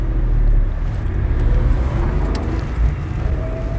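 A Porsche car on a road in Umhlanga, South Africa, gives a loud, low, steady engine rumble close by, with faint clicks above it.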